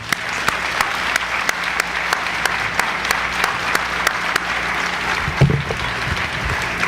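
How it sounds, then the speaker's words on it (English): Sustained applause from an audience at an annual management report meeting, dense steady clapping with a few louder individual claps in a regular beat standing out close by, no talk over it. "Let's have another round of applause for Josh King."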